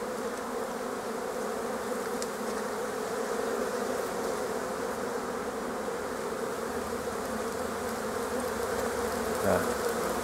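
Honey bees buzz in a thick, continuous drone at an apiary hive entrance in March, a close and steady hum without pause. A brief sharper tone stands out near the end.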